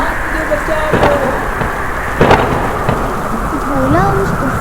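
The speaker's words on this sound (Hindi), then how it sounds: "अचानक से एक भयानक तूफान वहां आ जाता है।" A sudden violent storm in an animated Hindi story, with thunder and steady rain: a constant rushing downpour broken by a couple of sharp thunder cracks, with faint tonal cries mixed in.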